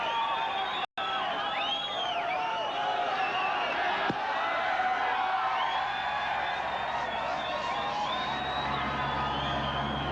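A crowd cheers the winners of the James Hardie 12-hour production car race at Bathurst, with whoops and shouts forming a constant, fairly distant roar and one brief sharp knock partway through.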